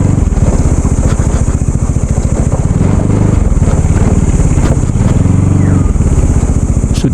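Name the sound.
motorcycle entering parking area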